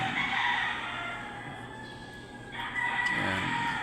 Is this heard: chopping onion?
no